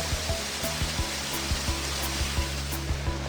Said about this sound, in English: This little section is really pretty as we cross the stream fed by that waterfall.